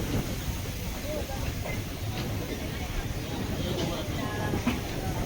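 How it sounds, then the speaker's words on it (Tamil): Rameswaram to Madurai passenger train number 56712 crossing the Pamban Bridge, heard from onboard as a continuous loud rumble and rush of wheels and wind, with faint rattles and clicks throughout. "56712 ராமேஸ்வரம் டு மதுரை போகிற பேசஞ்சர் ட்ரெயினில் போயிட்டு இருக்கோம்"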